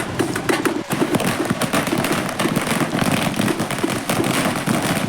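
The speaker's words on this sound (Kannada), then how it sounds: "ಪಟಾಕಿ ಹೊಡೆದು ಸಂಭ್ರಮ ಮಾಡ್ತಿದ್ದಾರೆ ನೋಡಿ." Strings of firecrackers burst at a film release celebration outside a cinema in Mandya, a loud, rapid, unbroken rattle of cracks and thumps that fills the whole clip.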